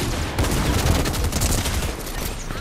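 Rapid bursts of gunfire in Fortnite Reload, a dense crackling volley of many quick shots at moderate loudness lasting throughout.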